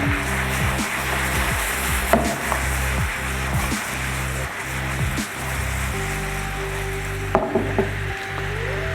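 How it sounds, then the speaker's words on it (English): Banana pieces fry in a sweet flambé sauce in a pan, a steady close sizzle with soft bubbling and a few stirring clinks. "We'll cook bananas for around 30 seconds to 1 minute so that they soak the sauce."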